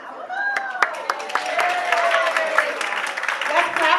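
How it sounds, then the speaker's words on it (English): Audience applause for Black businesses at a mental health community event, a steady wash of clapping with scattered cheers and voices mixed in throughout. "Let's clap it up for our Black businesses that gave us these gift cards"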